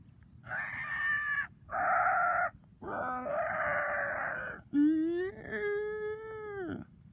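Four loud, close dinosaur roars in a row, each a drawn-out tonal cry separated by short gaps, the last one bending down in pitch as it fades.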